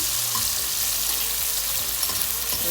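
Liver steak ingredients with scallion frying in a pan, a steady loud hiss of sizzling oil throughout with small crackles, close and continuous with no voices.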